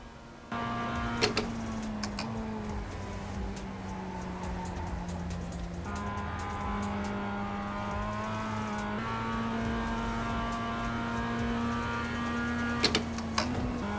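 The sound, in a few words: race car engine in a racing sim video game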